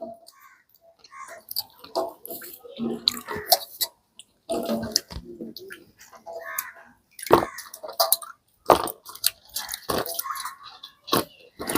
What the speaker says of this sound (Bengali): সব আমলকিগুলোকে খুব ভালো করে আমি জলে ধুয়ে নিয়েছি